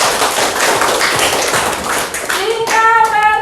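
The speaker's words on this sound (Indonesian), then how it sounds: "Tepuk tangan untuk kami." A small group in a primary school classroom claps steadily for a few seconds, loud and close, before the clapping gives way to a voice.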